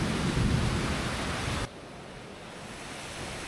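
Heavy rainstorm in a Vietnamese village alley, with a loud rumbling roar of thunder and pouring rain that cuts off abruptly, leaving a softer steady wash of rain.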